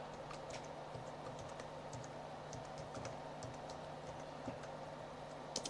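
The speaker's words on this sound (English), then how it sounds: "click format and type your password" Faint clicks of a computer keyboard as a password is typed, scattered light keystrokes over a steady low hum, quiet and close, with a small cluster of presses at the end.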